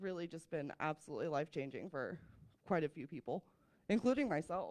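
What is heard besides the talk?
No distinct noise like a dog, phone or traffic.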